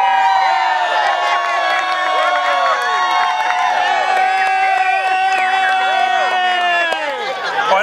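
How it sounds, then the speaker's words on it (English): Talent show audience on a schooner cheering, whooping and clapping at a sustained loud level, a dense crowd roar with overlapping shouts and high voices filling the room throughout. "They got a lot of applause, see, though."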